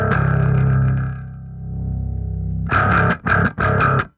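Electric guitar played through a Prodigal Sound Mission Control pedal with the gain dialed all the way up: a long, heavily distorted chord rings out and decays, then three loud, choppy distorted chord bursts follow, with no talking.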